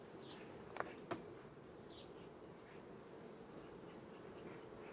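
Honeybees buzz around an open hive in July, a steady, close hum with a couple of brief clicks near the start; no talking.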